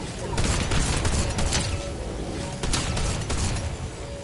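Sustained bursts of video game gunfire in a jungle battle royale-style match, dense and fairly loud with rapid repeated shots, with a player's voice talking faintly underneath.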